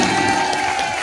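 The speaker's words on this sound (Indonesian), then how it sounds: "Tepuk tangannya mana?" Applause and crowd noise at a Jakarta primary school class ceremony, a steady dense wash of clapping filling the whole brief moment, loud and close.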